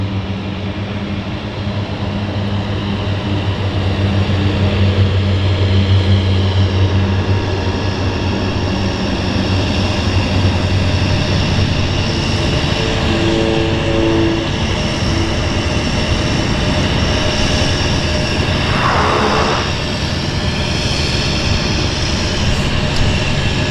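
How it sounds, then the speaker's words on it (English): A floatplane takes off at a harbour airport in Vancouver, its engine a loud, sustained drone that holds steady for over twenty seconds and gradually shifts in pitch as the aircraft powers away across the water. "That's beautiful takeoff."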